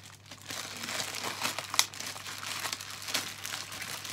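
Hoof oil bottle in plastic packaging being unwrapped, giving a close, steady run of crinkling and rustling with one sharper crackle midway.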